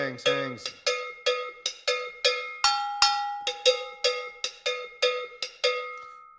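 A palo bell struck in an Afro-Cuban 24/8 cycle, bright metallic clanks in a steady repeating pattern with a few higher-pitched accent strikes, close and dry with no voices.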